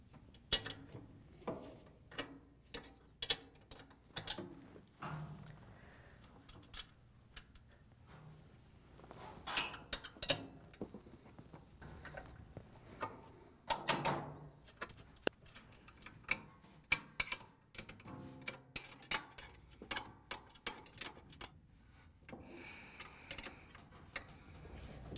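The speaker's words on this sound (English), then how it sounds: "We can reach in with our 3/8" wrench and remove the 4 nuts that hold the motor down." A 3/8 inch wrench loosening the four nuts holding down the drive motor of a Frigidaire/Electrolux washer, heard as quiet irregular metallic clicks and ratcheting ticks, close and sparse, no talking.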